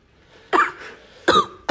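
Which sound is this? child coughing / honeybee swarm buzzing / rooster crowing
child coughing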